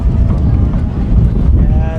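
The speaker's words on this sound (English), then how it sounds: "it is windy over here at the base of the Wasatch Mountains" Strong wind buffets the microphone at an outdoor high school football stadium at the base of the Wasatch Mountains before kickoff, a steady loud low rumble with gusty flutter throughout.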